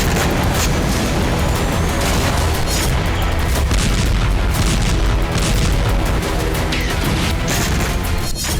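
Bombing and missile strike explosions in a war zone, a loud continuous roar of booms and crashing blasts layered densely with rumbling low-end impacts throughout.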